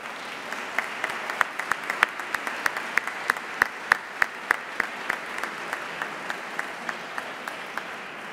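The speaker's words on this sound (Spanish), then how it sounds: "Y por ello, pido un aplauso para todas vosotras." Audience applause at a tribute ceremony for the 1961 graduating class, a sustained, fairly loud patter of many hands with a few sharp individual claps standing out rhythmically over the wash.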